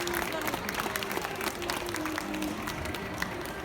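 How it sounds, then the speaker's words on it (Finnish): Audience applause at a children's fair fashion show in Helsinki, a steady wash of clapping from a crowd with a constant hum and some speech mixed underneath. "Annetaan Aarolle, Topille ja Emilille isot aplodit."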